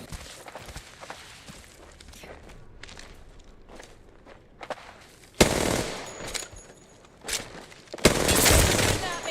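Gunfire in the Apex video game: soft footsteps and small clicks at first, then two loud bursts of rapid shots close by, with a further sharp volley near the end.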